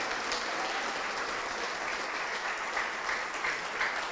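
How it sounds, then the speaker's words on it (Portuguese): A church congregation applauds during a Portuguese-language service, with continuous, even clapping at moderate volume lasting the whole few seconds and no speech over it. "Vamos aplaudir mais, vamos aplaudir mais."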